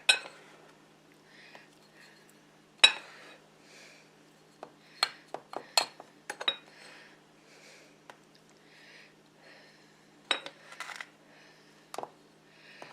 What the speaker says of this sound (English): my brown sugar container was so full I have to use a little cup to get in there